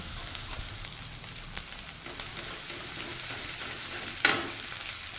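Ground coriander and cumin sauté in hot oil as the base for a catla fish curry with raw mango. The close sizzle runs steadily, with soft stirring taps and one sharp clink near the end.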